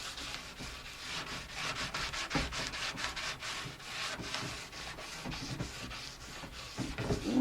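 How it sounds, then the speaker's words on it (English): A ski sidewall is sanded by hand with 180 grit aluminum oxide sandpaper, close and fairly quiet, in steady back-and-forth rasping strokes that repeat in a brisk rhythm. "Yes, some 180 grit. It's aluminum oxide sandpaper."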